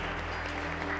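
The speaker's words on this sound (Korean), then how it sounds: "우리 모두한테 좀 수고했다고 박수 한번 해줄까요?" Steady applause from a group at a school competition's awards stage fills the short moment, dense and continuous from start to end.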